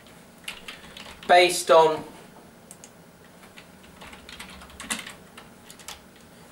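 Typing on a computer keyboard: a quick burst of clicks, then scattered lighter keystrokes, close and fairly quiet, with a person briefly speaking over it.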